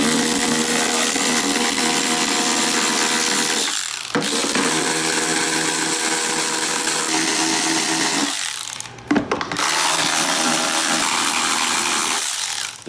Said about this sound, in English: I'm using a 10 millimeter deep well socket.